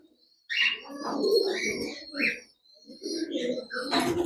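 Pigeons in a loft, some of them sick with diarrhoea, coo and chirp close by while someone talks over them almost throughout.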